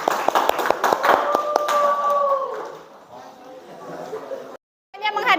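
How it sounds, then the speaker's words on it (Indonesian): A classroom of students claps for a student group. Quick, sharp claps come close together for about two seconds, with voices sounding over them, then the room settles into quieter murmuring before talk resumes. "beri tepuk tangan untuk kelompoknya Fadli dan Fadli"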